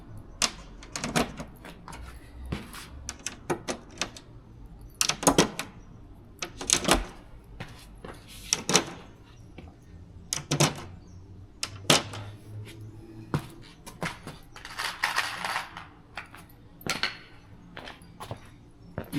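Rivets are set into checker plate on a Land Rover Defender, producing a string of sharp metallic snaps and clunks at uneven intervals, some close together, with quiet handling noise between them.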